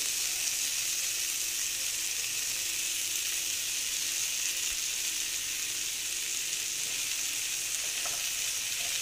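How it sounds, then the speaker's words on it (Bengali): Oats fry in a pan, producing a steady, even hiss of sizzling with faint occasional crackles, close and constant throughout, with no one talking. "দিয়ে এইভাবে আবার একটু ভেজে নিচ্ছি ওটসটা দিয়ে"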